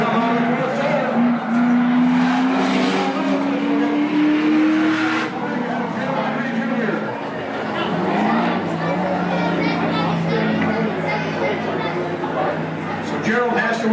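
Cars at a Norway spectator race, EVO8 among them, roar through a turn, with rising and falling engine notes and passing race cars mixed with crowd chatter and an announcer's voice throughout.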